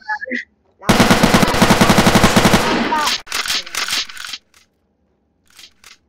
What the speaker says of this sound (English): Let me get the La Bamba gun